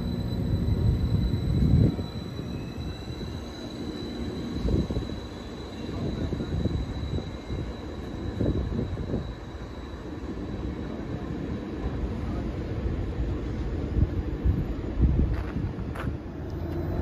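A Transport for Wales train departs and rumbles past nearby at Cardiff Queen Street station with a steady low roar and clattering wheels, some wind buffeting the microphone, no voices.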